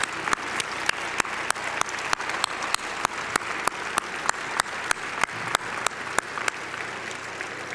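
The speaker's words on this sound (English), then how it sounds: "Please stand and give a round of applause to West Valley City" A gala audience gives a standing ovation, broad steady applause with sharp regular clap spikes near the microphone throughout, no talk over it.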